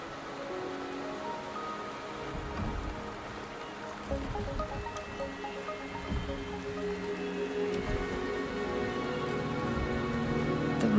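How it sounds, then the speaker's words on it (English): Rain in the video game Wuthering Waves, a steady hiss of drops pattering on surfaces that grows slightly heavier, with occasional soft thuds and a low tonal hum beneath. "The rain is subsiding, and the sky will soon clear."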